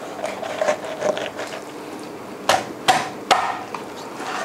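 A cleaver chops through duck pieces on a cutting board in three sharp, loud thuds after softer handling sounds, each strike distinct and closely spaced.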